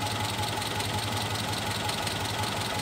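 A Volvo Amazon car engine idles close by with a steady, even, rumbling drone and a faint rhythmic pulse throughout, loud and alone with no voices.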